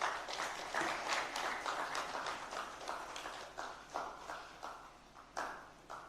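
A crowd applauding steadily, dense clapping that swells and fades in waves, heard from a moderate distance.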